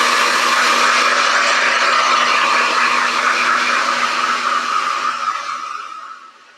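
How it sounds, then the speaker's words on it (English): A hair dryer blows on wet paint during a spring DIY craft, giving a loud, steady, close whooshing hum that carries on unchanged and then winds down and fades near the end. "I'm going to grab my hair dryer just so that we can, for purposes of video, not take too long"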